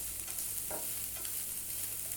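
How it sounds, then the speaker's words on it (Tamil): Chopped cabbage is stir-fried in a pan for an omelette, a soft steady sizzle running throughout with a brief stir or scrape near the middle. "சேர்த்து நல்லா வதக்கி விடுங்க."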